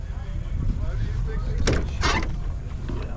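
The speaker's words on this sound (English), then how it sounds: "Can I open the door and get a peek?" An old car's door is opened with two brief clunks close by, set against steady background noise and nearby talk.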